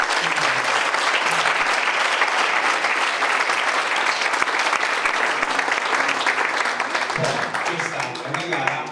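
Steady, dense audience applause fills the whole stretch at a soap-bubble art competition at the Scala dei Turchi in Sicily, many hands clapping loudly and continuously with crowd noise mixed in.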